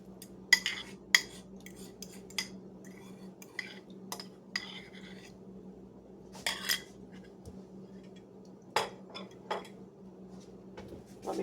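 Dry homemade granola clinks and rattles into a bowl in a few sharp scraping spills and taps against the dish, separated by quiet pauses over a low steady room hum.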